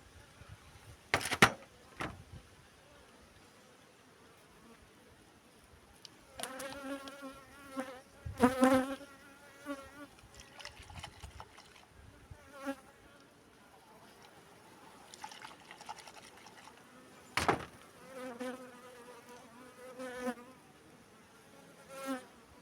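Honey bees buzzing around an open hive while a beekeeper takes bees, a dense close hum that swells and fades with passing bees, with bursts of handling noise and scattered clicks.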